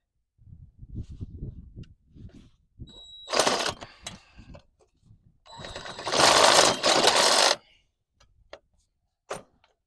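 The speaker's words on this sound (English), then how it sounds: "So, we're going to Sawzall this bad boy." A Sawzall reciprocating saw cuts into a worn front suspension bushing on a 2001 Toyota Tacoma, two loud buzzing bursts of rapid sawing separated by quiet handling noises and clinks.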